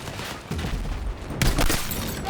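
Video-game gunfire crackles in a dense burst of shots, loud and close, with a sharper second volley partway through and no talk over it.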